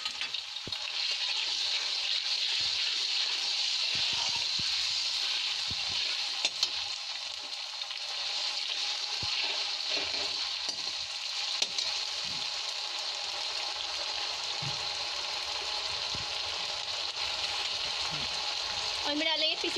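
Onion and ginger-garlic paste frying in a pan for a mixed vegetable curry, giving a steady bright sizzle that runs unbroken throughout with a few faint clinks and stirring knocks.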